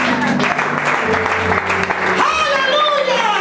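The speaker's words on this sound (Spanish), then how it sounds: "Denle un aplauso a él" Dense applause rises in a church congregation during a sermon, a continuous wash of clapping mixed with voices and shouts throughout.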